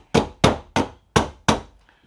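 Hammer taps on a Henry rifle's M-LOK handguard as it is bumped into place at the receiver: five sharp, close metallic-wooden knocks at a steady, slightly uneven rhythm, each ringing briefly before the next, with no talk.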